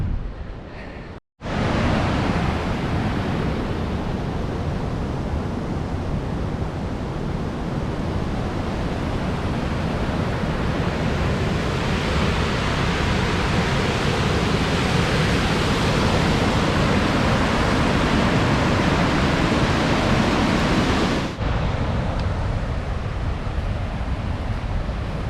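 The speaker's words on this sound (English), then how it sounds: "I hear a lot of water. I think there's a falls over here." Rushing water from a waterfall on a Forks of the Credit hike pours as a loud, steady broadband roar for about twenty seconds, then cuts off abruptly to a quieter wash.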